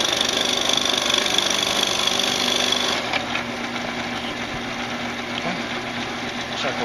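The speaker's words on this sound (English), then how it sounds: "I'm going to go ahead and auger this area down so it's nice and flat for our track area" Power auger grinding down bamboo to flatten it for a mini flute, a loud continuous buzzing whine that cuts to a lower steady drone partway through, no talking.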